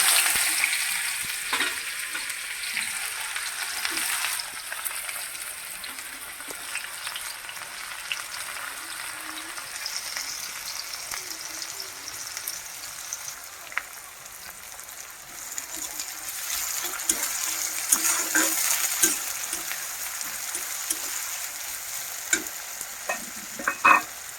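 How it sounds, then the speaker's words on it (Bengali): Sliced onions fry with cumin and radhuni seeds in a pan, a continuous soft sizzle with repeated scraping stirs, steady and fairly close, with no talking. "পেঁয়াজগুলো অনেকটাই ভাজা হয়ে গেছে"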